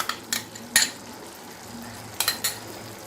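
A spoon stirs okra masala loosened with water and a spoonful or two of milk cream in a pan over a low flame. A few scattered scrapes and clinks land against the metal over a soft background, with no talking.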